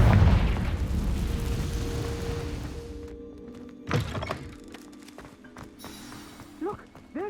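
Confringo blasting spell in Hogwarts Legacy, a deep rumbling explosion that starts loud and decays over a few seconds, followed by a sharp thump and scattered lighter pops and magical crackles.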